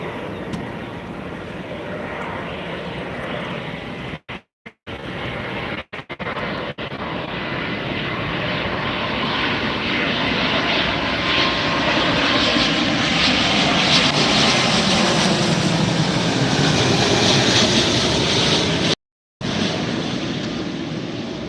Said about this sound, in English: That was the British Airways 777 One World special livery. Big airplane.